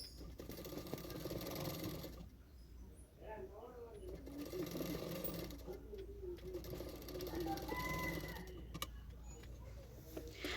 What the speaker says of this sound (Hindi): और दोनों स्लीव को मैं इसी तरह से सिलाई कर लूँगी 1/2 इंच मार्जिन रखकर।